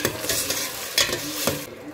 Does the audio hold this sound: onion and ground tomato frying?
yes